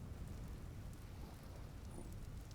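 Steady rain with low thunder rumbling through a dark in-game storm in the survival game Vintage Story, a constant, even wash of noise with no talk over it.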